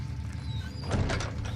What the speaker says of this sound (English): And shut the door behind me.